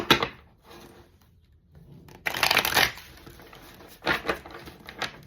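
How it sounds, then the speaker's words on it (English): Tarot cards are shuffled in several quick, crisp riffling bursts separated by short pauses, close up and without talk. "That was an ugly shuffle if y'all was watching."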